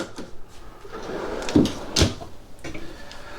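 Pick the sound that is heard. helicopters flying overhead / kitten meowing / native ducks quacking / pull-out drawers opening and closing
pull-out drawers opening and closing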